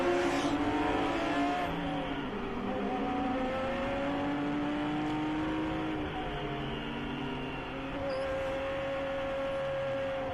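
Onboard a race car driven by Lucas Pank on a road course, the engine drones loudly and steadily, its pitch sliding up and down through gear changes and throttle lifts, with no talking over it.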